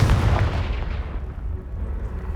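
The Confringo blasting spell explodes in Hogwarts Legacy with a heavy, booming blast. The low rumble decays over about two seconds, alone and with no voices.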